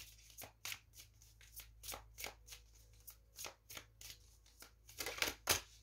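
Tarot cards are shuffled and drawn by hand, a quiet irregular series of soft papery slaps and riffles, about a dozen distinct flicks with a brisker cluster near the end, close and intimate.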